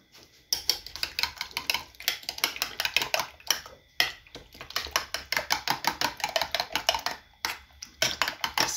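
A utensil clicks and taps rapidly against a bowl as eggs are whisked with onions, tomatoes and bacon for a frittata, a close, brisk rhythmic beating broken by a few short pauses, with no talk.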